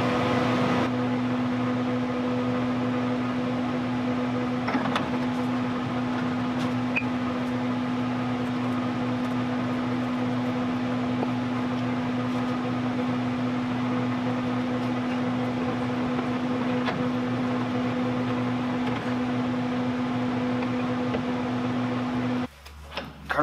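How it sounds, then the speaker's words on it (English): A noisy welder runs in a workshop while a steerable air-bagged trailer is being built, giving a steady loud electrical hum with a constant tone, close and continuous, and cutting off near the end. "Off that noisy welder."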